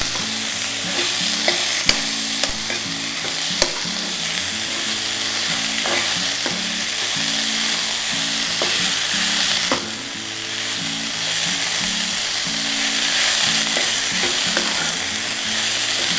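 Tomatoes frying in a pan on a stove, a steady loud sizzle with repeated scraping and clinking of a spoon stirring throughout.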